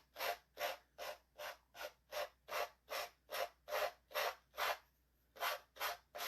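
Rhythmic rasping strokes of a file scraping a paper edge in downward motions, about a dozen even passes with a brief pause near the end, close and quiet.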